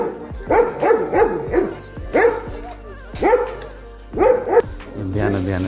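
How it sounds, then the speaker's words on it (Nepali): Several dogs in Dhapakhel, Lalitpur bark loudly and close by in repeated bursts of two or three sharp barks, with brief pauses between them and a low rumble underneath. "कुकुरहरू हरेक दिन बिहानै भुक्ने गर्दछन्"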